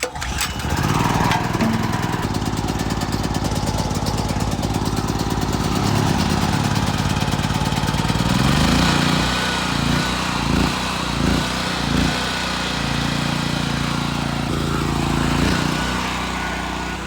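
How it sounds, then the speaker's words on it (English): A portable generator, started during a hurricane power outage, runs loudly and close with a steady mechanical chug and some rhythmic load surges partway through, with no talk. "generator's scooching along"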